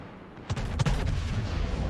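The Atlántico's main battleship guns fire in a naval video game: after a quiet half second, one heavy booming salvo erupts, then a long rumbling tail, loud and near.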